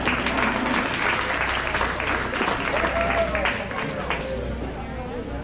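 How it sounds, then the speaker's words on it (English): Applause rises from the crowd at a 4-H and FFA county fair beef show, a steady, fairly loud patter of clapping that eases slightly toward the end, with a voice and murmur beneath. "Please give our senior a round of applause."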